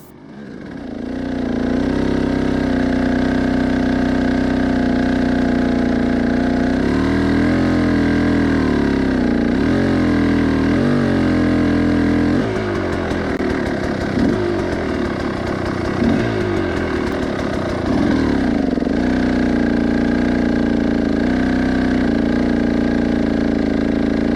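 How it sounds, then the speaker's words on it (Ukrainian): A 2022 KOVI 300 PRO two-stroke dirt bike engine idles steadily and loudly up close, with a low throbbing rumble that shifts slightly in pitch now and then, no voices. "Послухайте, як працює двигун."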